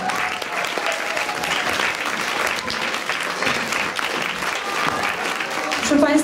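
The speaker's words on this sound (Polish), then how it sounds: "Brawa, wielkie brawa dla wszystkich" Audience applause after a carol concert at a cultural centre, a loud, sustained round of clapping from a hall crowd, with a voice speaking over it near the end.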